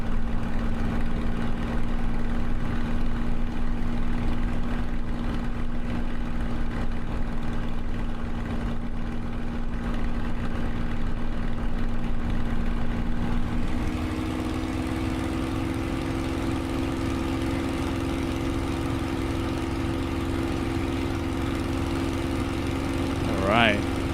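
A Spitfire LF Mk IXc's piston engine drones steadily in Microsoft Flight Simulator, a loud continuous tone that shifts slightly in pitch partway through as RPM changes, with a brief faint chirp near the end.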